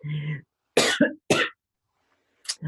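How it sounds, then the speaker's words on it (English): Several harsh coughs come close to the mic in quick succession after a brief vocal sound, then a pause and a final short cough. "I'm about to get into a coughing fit"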